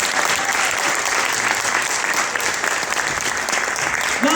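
A symposium audience claps loudly and steadily, a dense, continuous wash of applause from a large crowd with no pause throughout.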